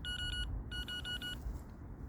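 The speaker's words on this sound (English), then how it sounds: "So while I'm setting my gear up, I put my alarm on." An electronic fishing bite alarm set up on a pike-fishing trip gives two quick runs of sharp, high, repeated beeps, loud and close against a low outdoor rumble.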